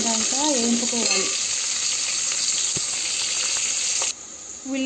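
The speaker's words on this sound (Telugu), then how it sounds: "ఉల్లిగడ్డ ఎర్రగా అయిందాక వేయించుకోవాలి." Onions fry in a pan for chicken curry with a loud, continuous sizzle. A voice is briefly heard at the start, and the sound drops off abruptly near the end.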